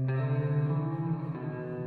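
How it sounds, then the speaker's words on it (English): A sustained electric guitar tone through a REAPER stock reverb plugin, wet signal only, ringing and washy with no dry attack, slowly decaying with a slight shift partway. "all we hear is the reverb."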